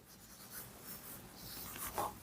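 Pen writing on paper during a maths worked example, a soft, faint scratching that runs continuously with slight swells and no speech.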